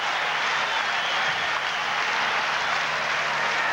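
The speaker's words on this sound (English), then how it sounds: "Crowd whooping it up." Dense crowd noise at a 1981 Reds–Dodgers baseball game in Los Angeles, a continuous roar of cheering and applause, steady and loud, heard at a distance and without a break.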